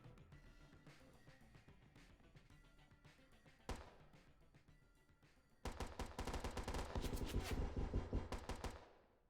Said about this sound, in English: Shots ringing out here, trying to break a lot of the storefront